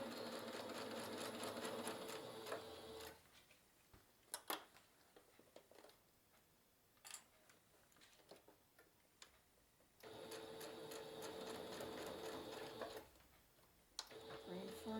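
A sewing machine stitches a fabric project bag, running in steady whirring bursts that stop and restart, with quiet ticking and handling noises in the pauses between runs.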